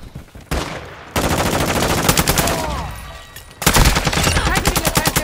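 Sustained automatic gunfire in Modern Warfare 2, loud and close, rapid rhythmic bursts with brief pauses and a sharp restart, some shell-casing clinks and faint voices under the shooting.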